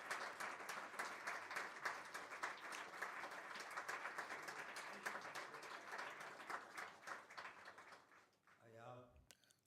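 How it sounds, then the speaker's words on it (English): Sustained applause from a workshop audience honoring sponsoring firms, a dense steady wash of many hands clapping that fades near the end as a voice begins to speak. "I like to ask you for applause from our sponsoring firms."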